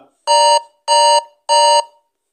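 Three identical electronic alarm tones from a Micromax IN 2b phone in an even rhythm, each a bright harmonic chime lasting about a third of a second, separated by silence.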